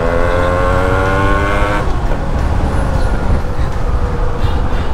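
A modified Yamaha RX100 two-stroke motorcycle engine runs loud and close, a buzzing drone that holds steady and then turns into a rougher roar.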